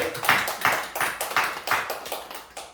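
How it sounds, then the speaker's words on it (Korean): A church congregation claps in unison, a series of about seven loud, evenly spaced rhythmic claps in a reverberant room, with no talking over it. "한번 박수하겠습니다"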